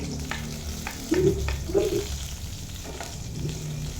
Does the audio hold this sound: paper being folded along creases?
no